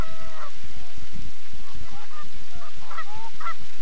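Canada geese honk repeatedly in a flock, with overlapping calls from several birds at close to moderate distance and a noisy outdoor background throughout.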